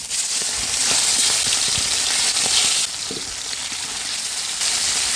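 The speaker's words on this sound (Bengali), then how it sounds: "কড়াইয়ে পানি উঠিয়ে দিছি। এখন কলা পাতাগুলো হালকা ভাপ দিয়ে নিব।" Water in a wok with banana leaves over it for steaming gives a steady broadband sizzling hiss, loud and continuous throughout with small clicks, a brief dip partway, no talk.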